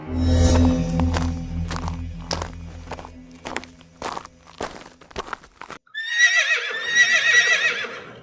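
Cartoon sound: hooves clop and thud at an uneven pace, then a horse lets out a loud, shrill whinny near the end.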